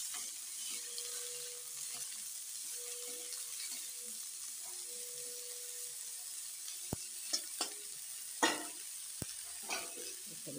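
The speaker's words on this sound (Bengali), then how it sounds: "এবার আমি তেলে দিয়ে দিচ্ছি ফুলকপি। ফুলকপিটা একটু লাল করে ভেজে নেব।" Cauliflower florets frying in oil with a steady, soft sizzle throughout, a faint hum underneath, and a few sharp clicks and scrapes of stirring toward the end.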